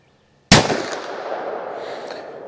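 A single sharp, loud gunshot from a .327 Magnum firing Federal Premium HST ammunition cracks close by, followed by a long decaying echo that rings on outdoors.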